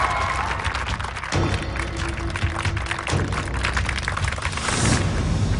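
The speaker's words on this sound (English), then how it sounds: "so let's give him a round of applause." Studio audience applause greeting a contestant at a weigh-in on a weight-loss competition show, a steady, dense wash of clapping from a sizable crowd that carries through, swelling a little toward the end.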